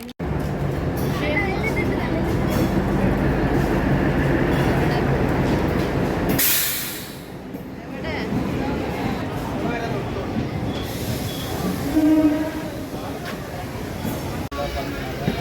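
A MEMU passenger train runs from Nagapattinam toward Karaikal, filling the scene with a loud, continuous rumble of rolling wheels and carriage noise. It dips briefly midway, and a person talks over the sound.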